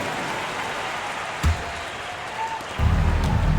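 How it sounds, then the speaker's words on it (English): Crowd applause in NBA 2K25 fills the background as a steady hiss of clapping, swelling louder near the end, with no voices rising above it. "Please give a big round of applause for your dance team"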